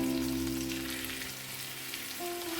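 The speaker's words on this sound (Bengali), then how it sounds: "এখন মাঝখানে আবার আরও কিছু আমি দিচ্ছি ভাজার জন্য" Chicken chaap sizzles and fries on a hot tawa, a steady hiss of crackling oil running close and even throughout, with a faint hum beneath and no talking.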